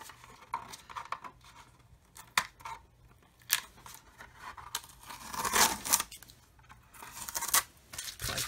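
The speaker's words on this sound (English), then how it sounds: "I can actually remove tape now." Masking tape peeled in short ripping strips off a scale model while applying insignia masks, several separate close tearing and crinkling bursts with quiet handling between them.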